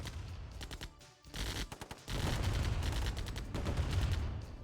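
Minigunners firing in the real-time strategy game Command & Conquer: Tiberian Dawn, a rapid rattling chatter of machine-gun bursts that builds into sustained, dense fire, moderately loud with no talk.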